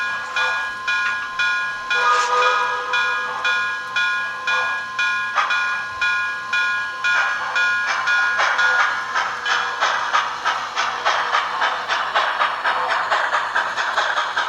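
An MTH PRR K4 model steam locomotive pulls three cars, giving a steady rhythmic chuffing with a hissing edge that runs throughout at a close, even loudness, with no talking.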